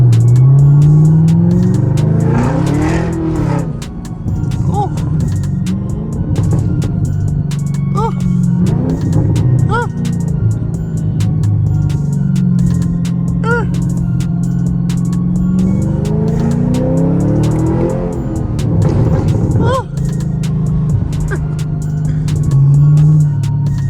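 A Chevrolet Camaro ZL1 engine revving while driving through a city neighborhood, a loud low rumble that swells in repeated acceleration pulls heard from inside the car.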